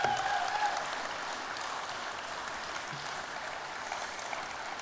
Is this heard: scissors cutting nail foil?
no